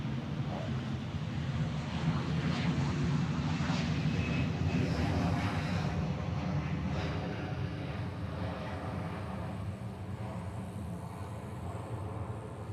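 A passenger jet departing Honolulu airport in Hawaii roars steadily and loudly up close, a dense, continuous engine rumble with broadband wind-like noise that holds for the whole stretch.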